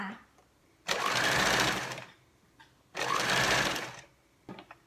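A sewing machine stitches a folded fabric edge in two loud, rapid bursts of about a second each, separated by quiet pauses with faint handling clicks.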